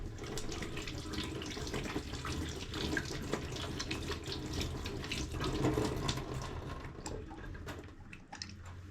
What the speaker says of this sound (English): So let me wash my hands because it's about to get very serious now.